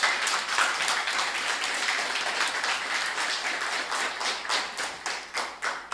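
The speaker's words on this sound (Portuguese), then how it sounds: "Uma salva de palmas para Jesus." A church congregation breaks into a full round of applause, many hands clapping in a dense, steady patter that rises into more distinct beats near the end, with no talk over it.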